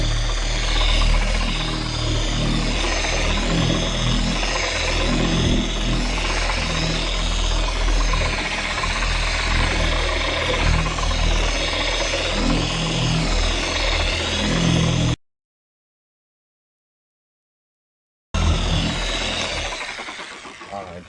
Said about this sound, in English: now I'm going to turn it on speed 1 just to spread the polish first